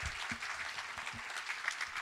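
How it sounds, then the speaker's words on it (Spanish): Church congregation clapping during a sermon, a fairly soft, steady patter of applause with a few rhythmic low thumps under it. "Dale otra vez el aplauso."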